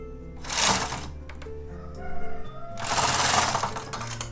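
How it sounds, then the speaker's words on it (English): A knitting machine carriage sweeps across the bed for the first row of arm warmers in two long rattling, whooshing passes with a clicking lull between them, close and loud. "We're going to knit our very first row."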